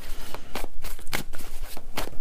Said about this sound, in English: I'm shuffling, turning the cards around and around, right?